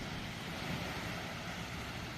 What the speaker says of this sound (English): here we are at Panyang Beach